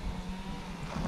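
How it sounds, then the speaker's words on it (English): Groundskeepers' maintenance machinery runs somewhere below an outdoor spot at Eckley Miners Village, giving a faint, continuous broadband rumble that sounds distant and wind-like, with no voices. "pardon the noise, there's groundskeepers doing some maintenance down there"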